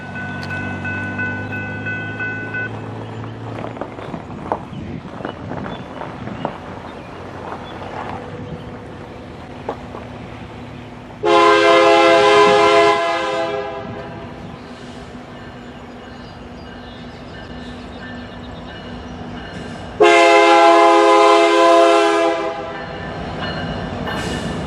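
CP 7023 freight train rolling through the Bertha Avenue railroad crossing in Portsmouth, Ohio, with steady rail rumble and two loud, long multi-tone horn blasts; engine noise lingers between blasts.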